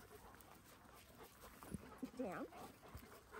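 A large young dog at a doggy daycare paddock gives a few short whimpers and vocal yelps amid breathy movement, close by, while a person speaks briefly.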